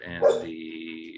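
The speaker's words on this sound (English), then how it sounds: "so you may hear him barking in the background." A dog barks once, close by and fairly loud, in the background of a remote community board committee meeting, with a person speaking softly around it.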